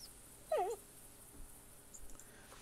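Hunting dog in theHunter video game, a single short faint whimpering whine near the start, then quiet with faint soft noises.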